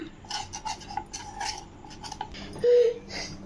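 A spoon scrapes and rasps around a bowl, stirring milk into custard powder to work out lumps for a vanilla cake. The strokes are quick and uneven, close and fairly soft, with a brief ringing clink near the end.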